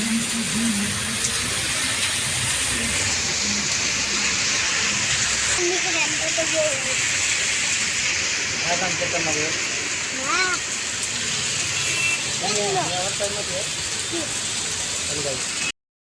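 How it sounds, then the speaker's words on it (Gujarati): Heavy rain roars steadily and loudly throughout in Rajkot, with people talking over the downpour. "ધોધમાર આવ્યો જેવી ગરમી હતી એવો જ વરસાદ જોરદાર આવ્યો"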